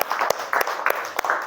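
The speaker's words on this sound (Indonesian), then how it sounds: "tepuk tangan buat kelompok" Classroom applause for a student group after a presentation: a few sharp claps amid scattered clapping and light chatter, fairly close and brief.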